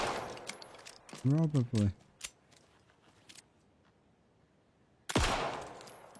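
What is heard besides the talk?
gunfire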